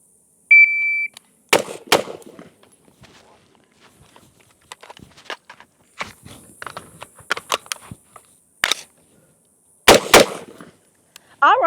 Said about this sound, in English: I'm gonna take 2 shots to the body, reload, take another 2 shots to the body